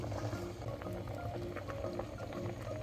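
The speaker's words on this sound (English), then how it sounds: "After it starts boiling, you can add the glutinous rice balls." Coconut milk with glutinous rice balls simmers at a low boil in a pot, a soft, steady bubbling close by.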